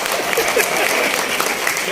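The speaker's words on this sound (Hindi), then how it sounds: "ताली बजा दीजिए एक बार" A crowd at a Hindi humorous poetry recital claps in a brief, loud, dense burst of applause, with voices mixed into the noise.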